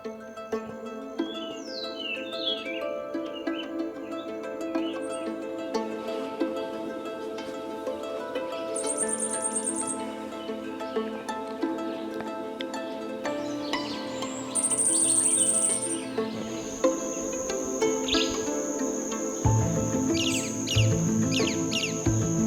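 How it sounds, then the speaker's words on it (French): A dense mix of tropical jungle birds, including spot-breasted wren, sporophile and social flycatcher, sings continuously, with whistles, trills and chirps overlapping over a steady insect hum. "Le sifflotement joyeux du troglodyte à poitrine tachetée se croise aux trilles du sporophile grand chanteur"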